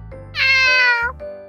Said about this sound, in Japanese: 先生のところ猫ちゃんいるんですね